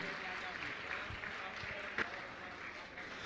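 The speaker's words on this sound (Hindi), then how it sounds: "आपकी तालियां लगातार बजती रहें, बातचीत न करें, तालियां बजाकर अभिनंदन कीजिएगा इनका" An audience applauds steadily at a spiritual question-and-answer gathering, welcoming a guest. The dense, even clapping holds for the whole stretch with one brief sharper burst.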